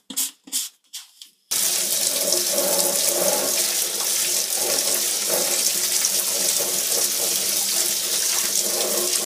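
Water gushes into an RV holding tank, a loud continuous rushing stream after a few brief knocks and splashes at the start.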